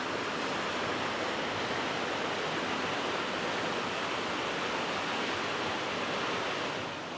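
Rushing water at the Pontneathvaughan waterfalls in Wales, a dense, steady broadband roar that stays constant and full throughout, with no voices over it.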